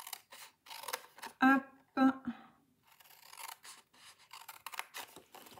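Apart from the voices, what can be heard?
scissors cutting paper for a shaker box mini album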